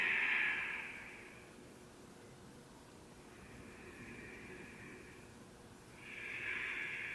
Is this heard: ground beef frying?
no